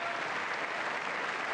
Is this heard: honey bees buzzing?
no